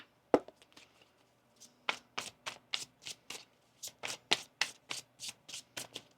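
Tarot cards being shuffled in a quiet room: one sharp riffle, then a steady run of about fifteen crisp, evenly spaced flicks.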